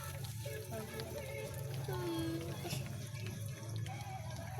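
Running water splashes in a sink as crab is rinsed for ginataang crab, a steady light flow with faint clatter beneath low talk.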